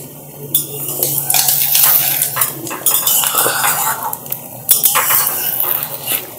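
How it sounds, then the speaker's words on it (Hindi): Pots and utensils clatter and scrape in a kadai during late-night cooking, with busy metallic clinks and stirring sounds filling the whole stretch at close range, no voices. "इसीलिए कढ़ाई में फ्राई कर रही हूँ"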